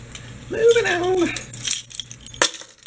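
A set of everyday-carry keys with a work key fob jingles as it is handled up close, with light metallic clinks and a sharp clack near the end, while a voice speaks at the start.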